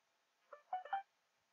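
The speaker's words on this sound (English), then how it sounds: "as you probably heard, I just got a text on my phone from MetaTrader 4" A phone gives a text message alert from MetaTrader 4: a faint, brief run of three or four electronic chime notes close together, then silence.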